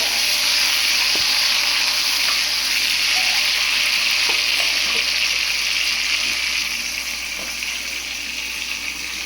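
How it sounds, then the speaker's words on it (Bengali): Steady sizzling of onions frying in hot oil, a continuous bright hiss with a few faint clicks and pops throughout. "এবার আস্তে করে পেঁয়াজগুলোকে তেলের ভিতরে সাঁতলে নেওয়া হবে"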